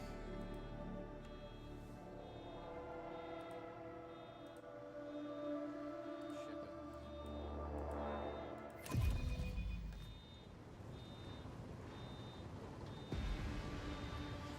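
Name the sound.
alarm going off in a nearby apartment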